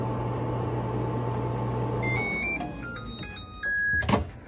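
Microwave oven heating water and Airheads candy for slime, a steady hum that stops midway, followed by a series of beeps and the clunk of the door opening.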